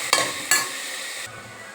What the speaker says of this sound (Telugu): తిప్పుకుందాం, కలబెట్టుకోవాలి. లేకపోతే మాడిపోయింది.